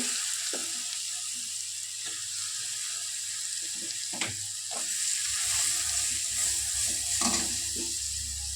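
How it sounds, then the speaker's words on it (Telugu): Grated carrot sizzling in a hot pan with salt while being stirred, a steady close frying hiss with occasional scrapes and clinks of a utensil. "ఇప్పుడు క్యారెట్ ఎత్తి వేస్తున్నానండి."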